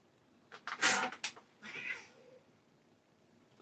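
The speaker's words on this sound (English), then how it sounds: "I don't know why my cats are acting up" Several house cats meowing and yowling in a quiet room, a cluster of overlapping agitated cries followed by a softer drawn-out meow, fairly faint and close, with no talking.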